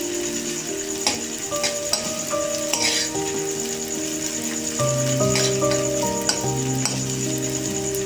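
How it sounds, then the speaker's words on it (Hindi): Curry leaves and chopped green chillies fry in hot oil for Kolhapuri misal pav, giving a constant close sizzle with occasional stirring clinks under background music. "ये 10-12 करी पत्ते डाल देंगे और 2 कटी हुई हरी मिर्च डाल देंगे। इनको भी अच्छे से फ्राई कर लेंगे।"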